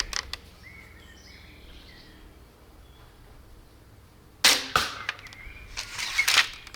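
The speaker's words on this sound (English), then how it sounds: "Now we're shooting the heavy bolt with the bodkin tip." Quiet outdoor ambience with faint birds, then a sharp crossbow release followed quickly by a heavy bodkin-tipped bolt striking a target with a solid thwack, plus a few sharp impacts.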